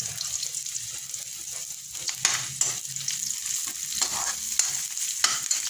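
Shrimp are added to corn and bitter gourd leaves sautéing in a pan, with a steady close sizzle broken by scraping stirs and clatter and no voices.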